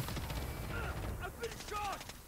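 A sentry gun being placed in Call of Duty: Modern Warfare (2019) gives short mechanical clicks and ratcheting clanks, heard against busy in-game gunfire and background noise.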